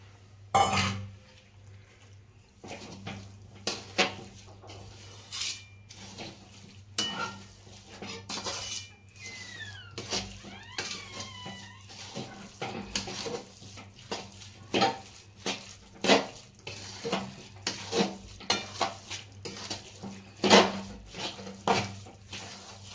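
Dry fruits and edible gum (gund) being stirred in ghee in a pan for gund pak: repeated scraping and clinking of a spoon against metal, with faint sizzling underneath, close and steady throughout.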